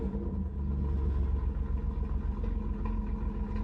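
A 1999 Firebird with a 3.8L V6 and a worn muffler idles close by on a ramp after a fuel pressure regulator replacement, giving a steady, low, rumbling exhaust drone.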